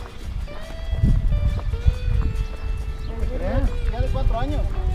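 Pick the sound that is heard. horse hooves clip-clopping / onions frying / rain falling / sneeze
horse hooves clip-clopping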